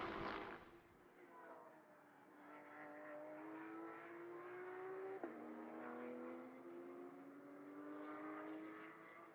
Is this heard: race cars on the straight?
yes